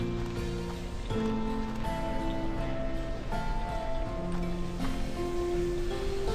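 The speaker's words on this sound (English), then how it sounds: "a lot of rain down there" Steady rain falls in the video game Slime Rancher 2, a constant hiss of drops under gentle tonal background music, moderately loud and without a break.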